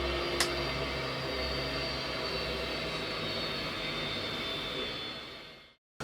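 A de Havilland Twin Otter turboprop engine shutting down, heard close as a loud, steady turbine whine and roar holding for several seconds before cutting off abruptly into silence.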